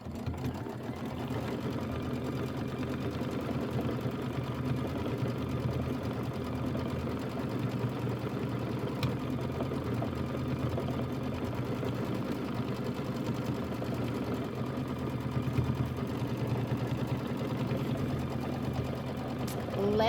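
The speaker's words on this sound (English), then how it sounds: "Okay, we are ready to do our quilting stitch. So that's our quilting stitch. Just go ahead and hit start." An embroidery sewing machine runs a quilting stitch across a quilt border, giving a steady, fast mechanical hum and needle chatter that continues evenly throughout, close and alone.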